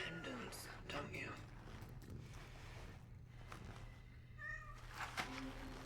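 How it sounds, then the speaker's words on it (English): Cats meowing while being petted in the video game Cronos: The New Dawn, a few soft mewing calls in a quiet game scene over a low steady hum, with some speech-like murmur in the background. "Anyway, that's enough petting cats."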